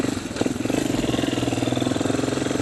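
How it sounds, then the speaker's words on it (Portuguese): A motorcycle engine idles close by as riders climb on to set off for work, its rapid, even pulsing thrum steady and loud for the whole stretch, with no voices over it. "estamos subindo na moto, estamos partindo para o trabalho."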